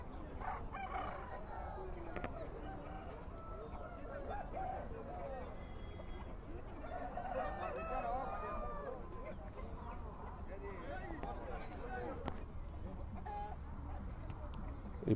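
Chickens at a busy Friday poultry market, with a hen clucking and a rooster crowing intermittently amid constant crowd chatter and background bustle, mid-distance and partly masked by voices.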